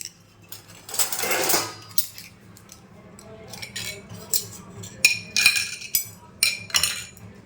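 A spoon clinks and scrapes against a glass of lassi in a series of light, bright taps and rattles, some quick and clustered, close and fairly quiet over a low background hum.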